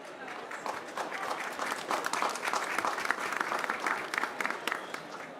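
Sustained applause from a conference audience at a COP29 launch event for the UK Government's principles for voluntary carbon and nature markets, steady and dense for about five seconds as a speaker finishes.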